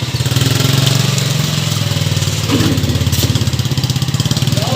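A motorcycle engine idles close by with a steady, rapid throbbing putter, holding an even loudness throughout.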